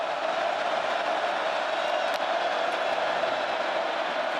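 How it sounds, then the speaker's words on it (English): A big football stadium crowd roars steadily at Iowa State, a dense, loud wash of cheering that holds constant throughout with no individual voices standing out. "listen to this crowd"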